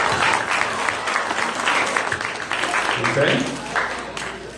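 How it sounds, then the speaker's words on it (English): Audience applause at a grade 4–8 school trimester award ceremony, sustained clapping across the room with a brief spoken word over it. "let's give your parents and teachers a big applause for their hard work and dedication"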